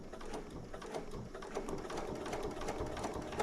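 A sewing machine stitches a soft fabric tube for a Christmas pillowcase, making a steady, fairly quiet mechanical whir with rapid ticking of the needle running throughout.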